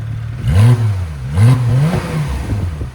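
A 2018 Porsche 911 GT3 RS with its 4.0-liter flat-six, custom X-pipe and straight pipes, valves open, blips twice in loud close revs that rise and fall, then settles to a rough idle.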